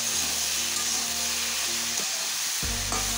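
Malabar spinach stems and leaves frying dry with pumpkin and potato in a pan, giving a steady close sizzle with faint stirring scrapes throughout.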